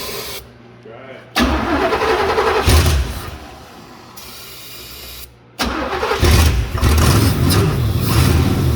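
Supercharged third-generation Camaro engine cranking and catching twice, each time settling into a loud, rough, close idle with throttle blips, while people talk nearby.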